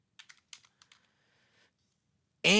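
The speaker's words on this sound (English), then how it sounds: "So let's type in Rockland." Short, close bursts of typing on a computer keyboard, a quick cluster of light key clicks fading out, followed by a sudden loud sound at the end.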